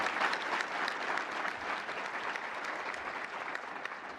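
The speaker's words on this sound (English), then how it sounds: "I don't want to go all the conference without giving them a round of applause for their fantastic work." A conference hall audience at the NAHT school leaders' conference applauds the sign language interpreters, a steady, moderately distant wash of many hands clapping for about four seconds with no speech over it.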